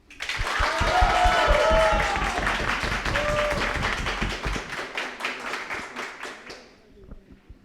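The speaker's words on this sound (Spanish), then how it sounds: "Reciban por favor con un fuerte aplauso" An audience welcomes a guest with applause that starts full, then gradually breaks up into fewer, more distinct claps as it dies away, with a voice or two briefly mixed in.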